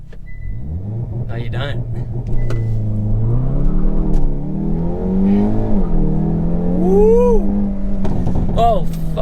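A Hyundai i30N with a DCT gearbox launching hard from a standstill, its engine droning loudly and rising in pitch inside the cabin, with people talking and exclaiming over it.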